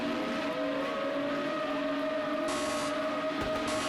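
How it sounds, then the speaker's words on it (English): Formula Renault racing cars in a racing video game, set on Road America, hold a steady engine drone with sustained tonal whine at revs that build continuously and gain brighter, harsher texture in the last moments. "Engine revs are building."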